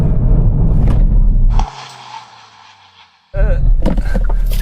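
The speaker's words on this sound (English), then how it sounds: "let's do an emergency stop from 60 miles an hour" A Hyundai i30N hot hatch brakes hard in an emergency stop from 60 mph: loud engine and road roar, then a quieter stretch of tyre and chassis noise as it slows, before a voice and engine noise resume.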